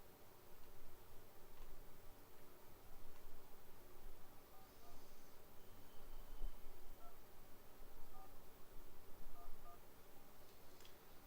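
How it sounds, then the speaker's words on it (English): Telephone keypad dialing tones play continuously for about eleven seconds, a steady run of beeps over a constant background hiss with no talking. "Let me see if I can get Danny Kale on the phone"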